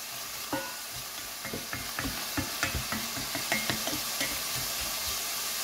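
Red pepper and onion searing in a hot pan, a constant sizzle broken by a rhythmic series of spoon scrapes and knocks against the pan as the vegetables are stirred.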